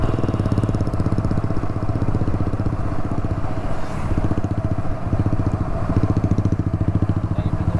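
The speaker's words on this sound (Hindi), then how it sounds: "एग्जॉस्ट तो बहुत तगड़ा लगा यार।" The exhaust of a Yamaha R15 V4 motorcycle throbs loud and close as it rides toward Brahmagiri mountain on the way from Palghar to Trimbakeshwar, with a fast, steady engine pulse throughout.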